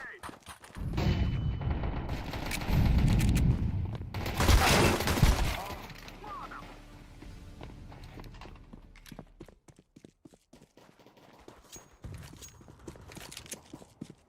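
Gunfire and a loud grenade blast in the online shooter Counter-Strike, a broad burst around the middle of a noisy stretch of shots and footsteps, with the action thinning out afterward.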